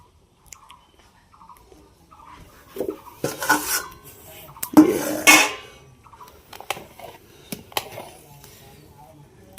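Metal pots and utensils clink and scrape while rice cooks in a home kitchen, a few louder clattering bursts in the middle amid quieter scattered knocks, with a little speech around them.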